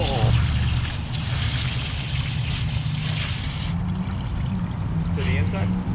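Tap water running steadily while a tie-dye towel is rinsed out: a loud, continuous close rush of water with a brief voice at the start.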